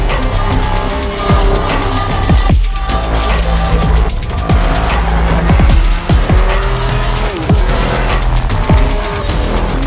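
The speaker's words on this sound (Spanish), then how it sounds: "Este tipo de silenciadores hace que el carro expulse mucho más rápido los gases y mejora el sonido." BMW X5 M with M Performance sport exhaust and silencers, driven hard: loud, continuous engine roar with repeated sharp tyre squeals and skids across the stretch, no talking.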